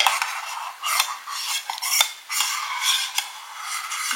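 Metal utensils scraping and clinking against cooking pots while fish is cooked in a home kitchen, a close, continuous run of rubbing and stirring with sharper taps, no talk.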